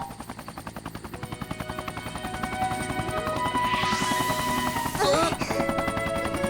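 A cartoon helicopter sound effect thumps in a fast, steady rotor beat, growing louder as it approaches, with a rising whoosh and a brief metallic burst near the end.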